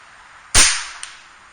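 A single sharp crack of a Kral NP03 .25 caliber air rifle firing at a 65-yard target outdoors, loud and close, with a faint tick following moments later.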